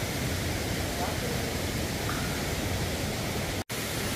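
Water surges and waves crash in a sea cave at Cavinti, producing a dense, steady roar that fills the space from start to end, broken by one brief dropout.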